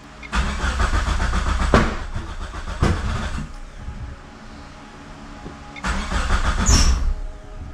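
A 2G Eclipse GSX running FuelTech cranks repeatedly in loud, close bursts, the engine sputtering and coughing between starter attempts with short pauses in between.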